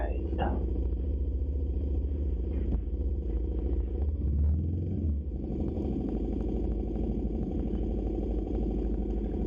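A Kawasaki Z250SL motorcycle on a commute to work, its engine a steady low drone mixed with road and wind noise the whole time, while a rider talks over it.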